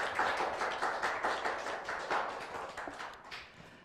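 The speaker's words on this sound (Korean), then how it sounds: "구경민 의원님을 큰 박수로 맞아주시기 바랍니다." Audience applause welcoming a speaker at a nurses' association assembly in Busan, a moderate, steady patter of many hands clapping that slowly thins out, fairly distant.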